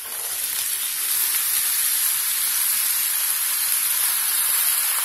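Pieces of bottle gourd hit hot oil with softened onions and sliced green chillies, producing a steady, bright hiss of sizzling that holds evenly throughout, close and fairly loud, with no voices.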